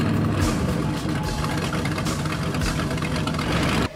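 A hot rod engine idles close by with a loud, rough and steady rumble that runs continuously, then cuts off abruptly at the end.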